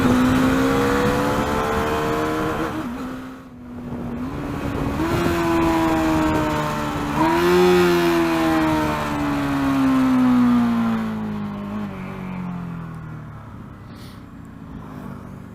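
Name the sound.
motorcycle engine downshifting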